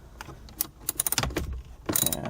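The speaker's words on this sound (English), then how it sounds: "To take off the 2 screws here and here, you're going to use a 10mm socket." A ratchet turns a 10mm socket to remove screws from interior trim on a 2013-2020 Ford Focus ST during a short shifter install, making quiet clicking bursts of ratcheting with short pauses between them.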